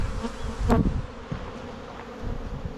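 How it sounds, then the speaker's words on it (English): Honey bees buzz steadily close by, a dense drone with a louder burst near the start and softer knocks and thumps underneath from knocking bees out of a hive box. "I'm trying to knock all the bees out of here."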